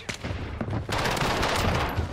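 Rapid, dense P90 submachine-gun fire in Call of Duty: Modern Warfare multiplayer, a loud sustained burst after a few scattered shots, close and continuous.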